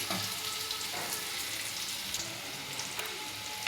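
Moong dal dry-roasting in a pan gives a steady, close hiss of frying with faint scraping stirs, alone and even throughout.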